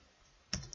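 A single crisp computer mouse click, close and quiet, with a couple of softer clicks following in a quiet room.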